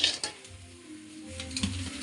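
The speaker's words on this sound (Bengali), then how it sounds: "এই যে পুঁটি মাছ কটা এই যে আমি ভেজে ভেজে উঠাচ্ছি।" Puti fish frying in a pan, with a soft steady sizzle under light clinks and scrapes of a utensil stirring against the metal, close and fairly quiet.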